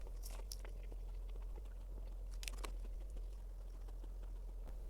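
Someone bites into and chews a Taco Bell cheesy gordita crunch, close to the mouth, with faint irregular crunches and crackles over a constant low background hum, no talking.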